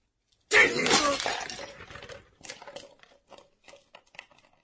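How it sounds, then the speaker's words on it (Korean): A baton strikes a site manager's hard hat, which shatters in one loud, sharp crash with scattering debris and clattering bits trailing off afterward; a brief voice is heard amid the fragments. "현장 소장의 안전모를 내리친 것이다."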